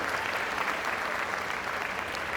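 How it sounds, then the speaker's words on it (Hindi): Audience applause at a university convocation ceremony in India, a steady dense wash of clapping from a large crowd filling the whole stretch with no talk over it. "एक बार ज़ोरदार ताली हो जाए अपने लिए।"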